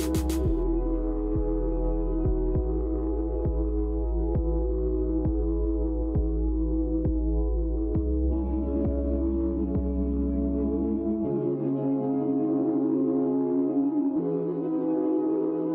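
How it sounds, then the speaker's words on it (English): A bench wire wheel hums steadily with a throbbing drone as a forged steel bottle opener is pressed against it and cleaned up. The wheel keeps running evenly throughout, and the tone changes partway through as the contact shifts. "now we're just going to clean this up on the wire wheel here"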